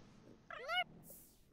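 A cat meows once in The Sims 4 life-simulation game, a short, faint, rising and falling game sound effect that stands alone with no speech.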